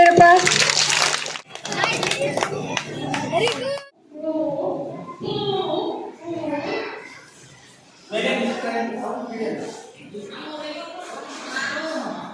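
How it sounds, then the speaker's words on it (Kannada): Loud, dense clapping from schoolchildren at a government higher primary school talent festival in Adavibhavi fills the first few seconds, then gives way to children and adults talking nearby. "ಜೋರ ಚಪ್ಪಾಳೆ"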